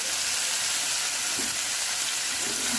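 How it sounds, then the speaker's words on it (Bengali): Chopped onions fry in a pan for doi katla, a steady, bright sizzle and crackle that runs evenly throughout, with no talking. "পেঁয়াজগুলো লাল লাল করে ভেজে নেবো"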